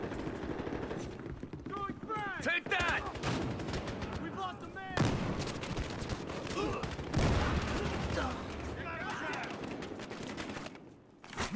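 Constant automatic gunfire from a Battlefield Hardline multiplayer match, with rapid bursts and sharp shots close and loud throughout. Shouted voices come in and out over the shooting.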